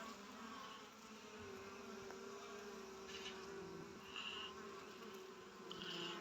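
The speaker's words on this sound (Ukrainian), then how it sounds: "Ось бджола присіла з пилком." Faint buzzing of honeybees around a hive, some landing with pollen, a steady low hum with occasional closer insects passing by, no talking.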